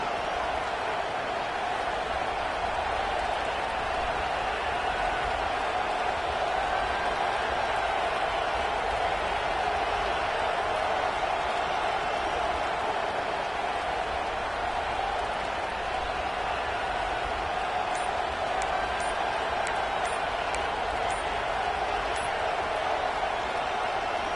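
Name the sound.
loud cheering crowd at NC State v Arkansas game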